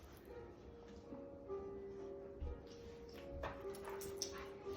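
A dog whimpers and gives a few high yips at low level, with thin whining tones running through the clip in a quiet room, while a trainer works with a harness on another dog.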